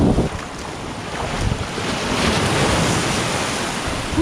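Big sea waves slap and wash against a small fishing boat off Palawan, a steady rushing surge with heavy wind buffeting the microphone throughout, no voices.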